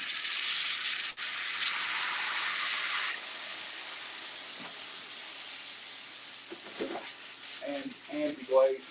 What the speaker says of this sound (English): I'm gonna add a little bit of water, just to kind of steam it a little bit.